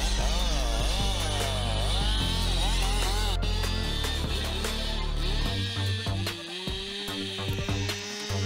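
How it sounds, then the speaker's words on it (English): A chainsaw fells an old tree, its engine revving and wavering as it bites into the wood, then dropping to a rougher, lower drone, loud and close throughout. "uses a chainsaw to fell a different old tree"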